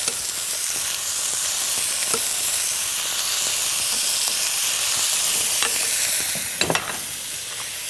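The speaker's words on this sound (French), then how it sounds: "Surtout bien revenir, c'est ce qui va donner toute la couleur à notre coq au vin" Chicken and garlic brown in hot fat for coq au vin, a loud, steady sizzle and hiss close up, with occasional stirring scrapes and one louder clatter near the end; no talking.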